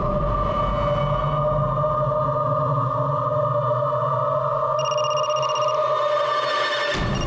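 A mobile phone rings indoors with a sustained electronic ringtone of steady, layered tones that shift partway through, playing alone without speech.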